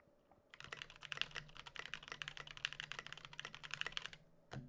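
Rapid burst typing on a budget 96% mechanical keyboard, a quick flurry of crisp key clacks rattling along for several seconds before stopping abruptly, close and clear with no talk.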